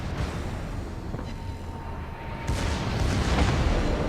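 Secondary guns on a battleship firing in World of Warships, a run of dull booms and blasts over a steady low rumble, growing louder and denser in the second half with no talking.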